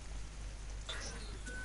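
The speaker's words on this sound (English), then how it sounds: "is there rain now?" Steady rain pours down within an online shooter match, a dense, even hiss with faint patter, low in level and continuous throughout, with a couple of brief higher game tones near the end.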